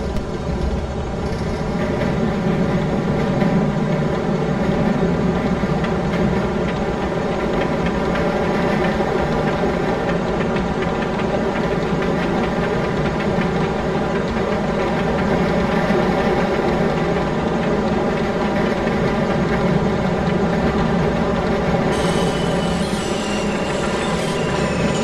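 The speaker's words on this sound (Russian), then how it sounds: "Будьте внимательны, трамвай следует в депо." A tram runs on route 24 in Privolzhsk in the driving game MTA Province, a steady loud motor hum with constant rolling rumble for the whole stretch, and a brief high whine near the end, with no talk.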